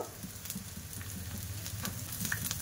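Peas, coconut powder and raisins fry in a pan while being stirred, a dense crackling sizzle with scattered light scraping taps, close and continuous with no talking.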